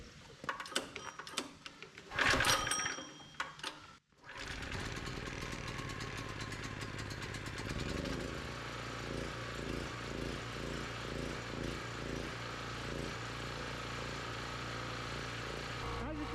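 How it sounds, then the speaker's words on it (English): A portable generator engine, just reassembled after brush and voltage regulator repair, starts up and settles into a steady, loud running drone with a slight rhythmic pulse, preceded by brief handling noises and a short pause. "let's fire up the generator and we'll check the voltage and see if it's good"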